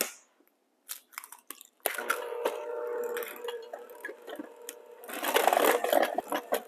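An electric mixer whirs on low through cheesecake batter for an ube cheesecake, a faint, uneven churning with soft clicks and sloshing that thickens toward the end.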